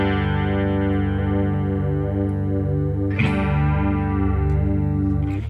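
Electric guitar played through a chorus effect set to a deep depth, a sustained struck chord with wobbling, slightly out-of-tune pitch warble, then a fresh strum near the middle ringing on steadily and loud, with no talking.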